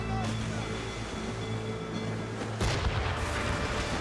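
Ship cannon fire in a naval battle in Assassin's Creed Rogue, with a deep boom over constant rumbling sea and ship ambience, followed by a burst of louder blasts as the fight intensifies.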